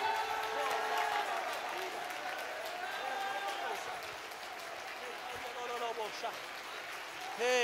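A church congregation claps along during a worship service, a steady crowd of hands sustained throughout under singing and raised voices.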